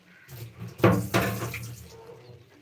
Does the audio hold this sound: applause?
no